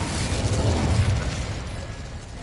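The Incendio fire spell bursts in Hogwarts Legacy as a loud whooshing blast that fades over a couple of seconds.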